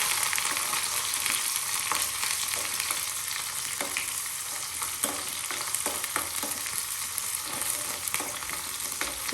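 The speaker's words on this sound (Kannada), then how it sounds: "ಈಗ ಈರುಳ್ಳಿ, ಒಂದು ಮೆಣಸಿನ್ಕಾಯಿ ಹಾಕ್ಕೊಳ್ತಾ ಇದ್ದೀನಿ." Chopped onion and a green chili sizzle in hot oil with cumin as a tempering for village-style palak dal sambar, a steady crackle with occasional stirring scrapes and no talk.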